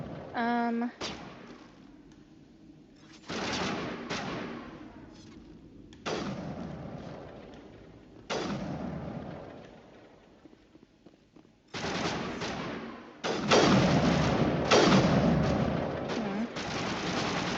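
Gunfire in the action game Mass Effect comes in loud bursts of rapid shots separated by short gaps, with a few quieter stretches in between.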